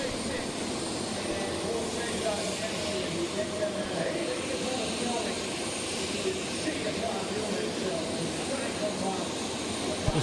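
Turbine engine of the Argos Oil Whispering Giant pulling tractor spooling up at an outdoor tractor pulling event, a loud, steady broadband roar and whine held throughout with faint crowd and track ambience.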